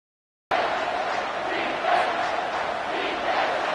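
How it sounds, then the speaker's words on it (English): A football stadium crowd roars loudly on third down at a college game between Jacksonville State and Alabama, a dense sustained wall of cheering that starts abruptly and swells slightly midway. "Third down, and this crowd is tearing the lid off this place."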